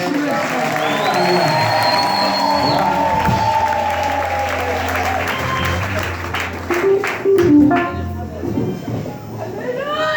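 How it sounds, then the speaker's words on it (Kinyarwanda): A congregation cheers, whoops and chatters loudly at a choir album event, with bursts of clapping rising toward the end amid crowd noise and voices, near and continuous. "Ushimira Imana muyikomera amashyi menshi cyane."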